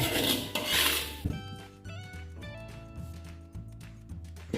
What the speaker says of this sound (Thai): คั่วเกลือก่อนนะครับ เพื่อไม่ให้แคบหมูของเราติดกระทะนะครับ